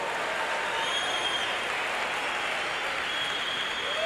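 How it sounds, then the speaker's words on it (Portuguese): Steady, even applause from a church congregation at a 2017 Christian conference, a continuous wash of clapping held at a moderate level with no voices over it. "Alguém pode aplaudir o Senhor?"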